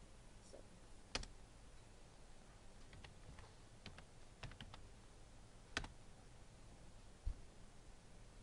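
Someone types on a computer keyboard, giving quiet, scattered key clicks with a few sharper taps against a faint background hiss. The clicks are sparse and irregular, and no one speaks.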